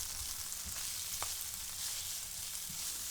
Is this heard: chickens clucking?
no